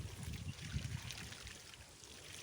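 Water gushes continuously from the pipe of a bore well pump in a rice field, a dense, steady rushing and splashing spray with no talk, heard close up.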